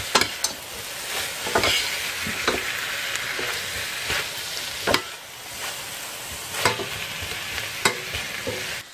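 Carrot and pork tenderloin pieces stirred in a hot frying pan: a soft continuous sizzle carries repeated sharp scrapes and clicks of the utensil against the pan, arriving in an irregular rhythm close to the listener.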